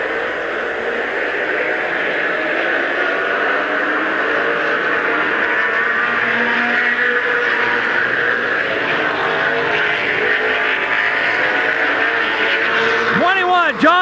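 Race cars lapping under green flag at Midvale Speedway in 1990 make a steady, distant engine drone that runs continuously beneath an announcer's ongoing commentary.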